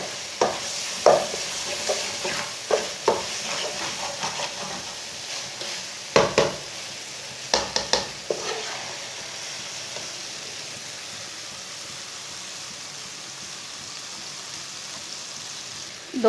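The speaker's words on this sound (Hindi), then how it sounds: "दाल और पालक को मैंने 5 मिनट तक भून लिया है। मीडियम आंच पर भूनना है," Lentils and spinach stirred and frying over medium heat in a pan, a soft steady sizzle with repeated scraping stir strokes, clustered early then quieter, no talking.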